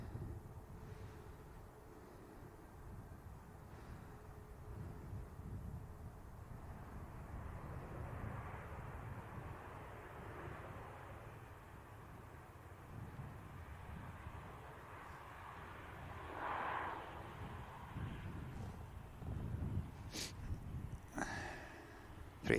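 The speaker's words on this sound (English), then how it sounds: "Ryanair just touching down." A Ryanair airliner touches down at Manchester Airport, heard as a faint, distant, continuous engine rumble that swells slightly toward the end, with no talk.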